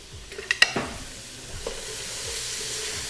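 Soup being stirred in a pot with a spoon: a few sharp clinks of metal early on, then a steady soft simmering sizzle underneath, no voices.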